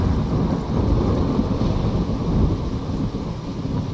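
Steady heavy rain with deep rumbling thunder in a stormy opening scene of the Life is Strange video game, a dense continuous roar filling the whole stretch with no voices.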